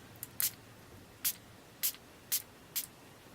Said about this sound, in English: I'm going to go ahead and set my face with some setting spray.